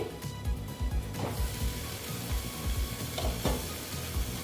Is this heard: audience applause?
no